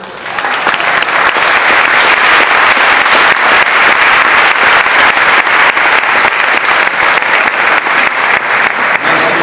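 Loud, sustained audience applause at a commemorative evening for the Chilean coup of September 11; dense, even clapping from a large crowd, continuing throughout with no talk.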